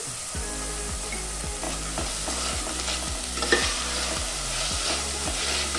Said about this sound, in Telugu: మనం వేసిన కూరగాయలు నూనెలో కొద్దిగా వేపుకోవాలి